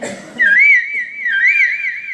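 A child at a school mimicry performance copies the call of an Asian koel, a clear whistled warble that rises and falls in two close, loud phrases after a brief noisy start.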